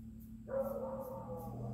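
A Cocker Spaniel mix dog barks indoors nearby, one sustained bark-like yelp rising out of steady low room hum and then trailing off.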